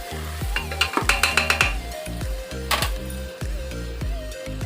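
Biryani masala, chilli and coriander powders stirred in a hot pan for chicken biryani, rapid rhythmic scraping strokes of a ladle against the pan over a steady sizzle, close and loud.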